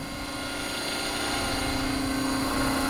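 A 500-size UH-72 Lakota model helicopter, freshly rebuilt, hovers steadily at 1700 RPM with a continuous loud rotor drone and high whine, close by and without a break.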